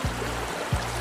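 Steady rushing of flowing water, like a stream, filling the whole moment with a constant broad wash of sound.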